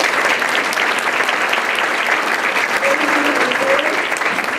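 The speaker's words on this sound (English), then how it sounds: "let's give them another big round of applause" A luncheon audience gives award nominees and recipients a big, steady round of applause that fills the room and carries on without a break.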